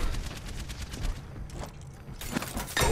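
Rapid automatic turret gunfire in the video game Overwatch, a dense stream of sharp shots in quick rhythm that pauses briefly midway, then resumes loudly near the end.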